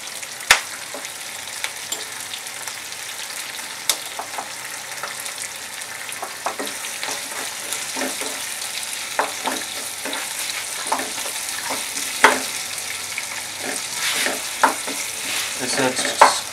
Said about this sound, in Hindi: इसे अच्छी तरह मिक्स कर लीजिए।